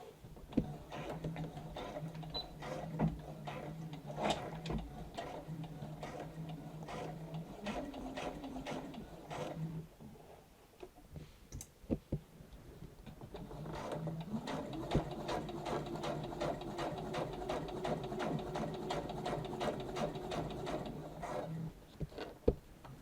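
A domestic sewing machine stitches an invisible zipper into fabric with a zipper foot, running in two steady bursts of rapid mechanical chatter separated by a short pause near the middle, close and alone.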